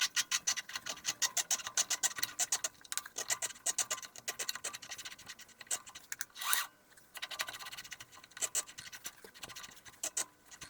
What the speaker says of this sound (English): I usually cut the threads by hand